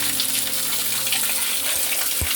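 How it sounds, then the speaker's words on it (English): Fresh water pours steadily into a catfish pond, a constant close gushing rush with no talking. "We are filling it with a fresh water."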